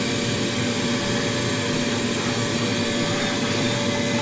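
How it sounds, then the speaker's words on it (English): A vacuum cleaner runs steadily in a workshop, a loud continuous motor whine with a constant rushing airflow, close and unbroken, with no talking. "I'm about to turn on the vacuum"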